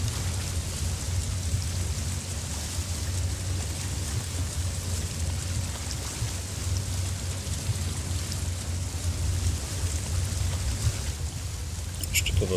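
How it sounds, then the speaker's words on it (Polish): Rain falls steadily in the video game Resident Evil Village while a motorboat engine drones low and constant beneath it, a continuous close wash with no pauses. "Odpalamy zresztą motorówkę, bo to ma silnik."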